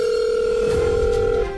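A steady electronic telephone tone sounds alone as a call goes unanswered, holding for over a second before it drops off near the end.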